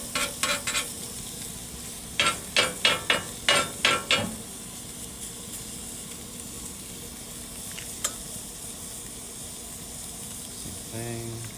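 A smashburger patty sizzles in a little oil on a Pit Boss Platinum KC Combo griddle, a steady hiss with a quick run of sharp spatula scrapes early on and a few later clicks, with some talking nearby.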